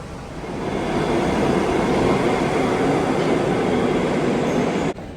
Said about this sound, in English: Currently, folks, we are stood on the one train platforms.